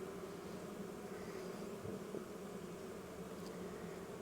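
Honeybees swarm around a nucleus hive being topped off with feed, a soft, continuous droning buzz with small shifts in pitch as individual insects pass close by, no voices over it.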